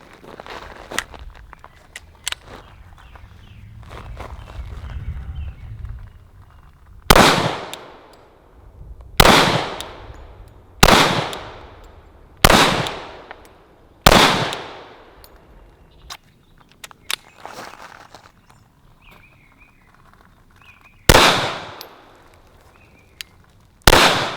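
Glock pistol shots ring out at an outdoor range from five yards, about eight loud sharp reports spaced roughly one to two seconds apart, with quieter rustling between them.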